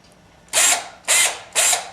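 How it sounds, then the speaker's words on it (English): A power drill whirs in three short bursts, each about half a second long, close by with brief pauses between them, drilling out points on a Mercedes 300D instrument cluster. "I want to drill out these two."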